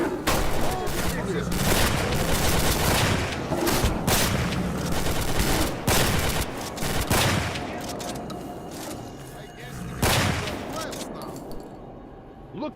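Gunfire rattles through a battle in the video game S.T.A.L.K.E.R. Last Fallout at Agroprom, with dense overlapping bursts and single shots continuing nearly throughout, loud and close, mixed with shouted voices before it thins out toward the end.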